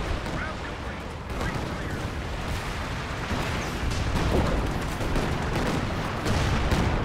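Artillery fire in the real-time strategy game Company of Heroes 2, rumbling booms and crackling blasts rolling continuously through a heavy battle din, loud and dense with no clear gaps.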